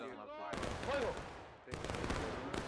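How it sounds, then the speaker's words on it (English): Musket volley fire in the Civil War game War of Rights: loud, sharp broadband cracks from a firing line, with a first burst near the start and another about a second later, blending with shouted commands and talk. "Spread out your aim. Left and right of the line. And fire."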